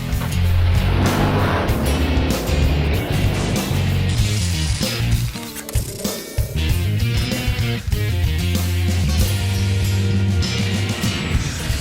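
A 2000 Corvette on a test drive, heard as loud, continuous engine and road roar with wind noise that dips briefly midway before surging again.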